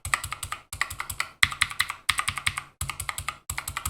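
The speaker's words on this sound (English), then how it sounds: "You still get the click of the blue switches, you just don't get that thump of the key hitting the keyboard." Typing on a budget mechanical keyboard with blue switches fitted with O-rings: quick bursts of crisp, clicky keystrokes in short runs separated by brief pauses, close and fairly quiet, with no voices.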